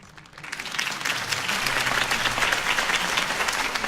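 A crowd in the Batman Telltale Series video game breaks into loud, sustained applause that swells quickly and keeps going, many hands clapping at once.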